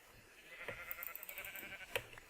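Sheep bleating in Minecraft, faint and wavering over a continuous music bed, with a louder bleat near the end.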